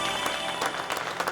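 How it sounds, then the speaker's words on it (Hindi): Brief burst of audience clapping at a staged Indian family game show, a short patter of many hands with a few louder claps near the end. "एक बार जोरदार तालियां।"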